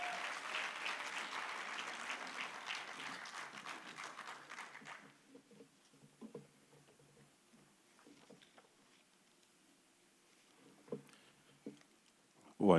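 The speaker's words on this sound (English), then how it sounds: "Let's give Mr. Mnisi a good round of applause" An audience at the SATVETSA 2025 conference gives a full round of applause that fades after about five seconds. Sparse faint knocks and movement follow in a quiet hall.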